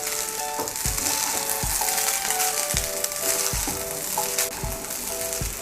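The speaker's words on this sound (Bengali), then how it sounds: "গোলমরিচের গুঁড়োটাকে ভালো করে মিশিয়ে নেব।" Fried rice sizzles steadily in a hot pan as black pepper powder is stirred in, with rhythmic spatula scrapes about once a second over background music and no voices.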